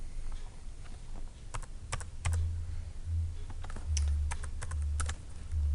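Keys clatter on a computer keyboard in steady bursts of close, crisp clicks, with a low hum underneath and no talking.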